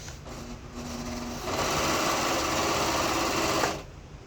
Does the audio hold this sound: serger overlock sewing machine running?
yes